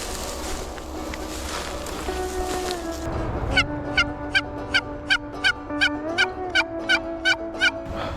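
Wild turkey gobbling outdoors at a hunting campsite, a long rapid series of sharp gobbling calls that grows louder and more distinct halfway through, over a soft windy background.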